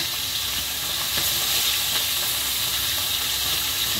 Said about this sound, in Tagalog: Kasi magprito tayo ng isda guys